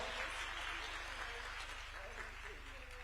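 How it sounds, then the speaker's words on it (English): Audience applause at a university event in Nairobi, steady broadband clapping continuing evenly throughout with a low hum underneath and some faint voices mixed in. "We can keep clapping for her until she takes a seat"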